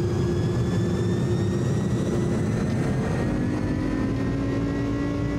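Jet engines of an iniBuilds A300 cargo airliner in Microsoft Flight Simulator spool up to takeoff power, a loud, steady roar with rising whine tones rumbling continuously throughout.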